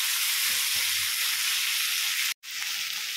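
Tomatoes sauté with onions in a pan for a mushroom gravy, producing a constant bright sizzle with occasional stirring, broken by a brief moment of silence near the end before the frying resumes.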